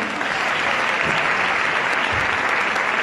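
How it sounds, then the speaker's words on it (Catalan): Sustained, dense applause from an audience at a Falles Marítimo exaltation ceremony, loud and steady throughout with no talk over it. "Perquè s'ho mereixen això i un aplaudiment."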